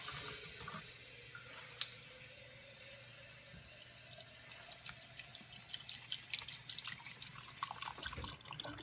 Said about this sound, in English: And now it's time to add in our vegetable stock.